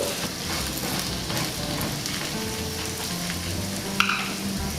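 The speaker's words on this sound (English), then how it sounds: "let that fry until it's golden brown." Food fries in a pan until golden brown, giving a steady close sizzle and hiss throughout with one brief sharp clink near the end.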